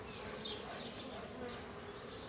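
Honeybees buzz steadily throughout an open hive inspection, a dense, continuous hum with no pauses, moderately close and fairly quiet, with no one talking over it.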